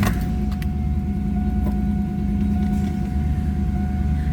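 A 1999 Pontiac Trans Am Firebird running close by, a steady loud low rumble that holds through the whole stretch, with a few faint clicks at the start.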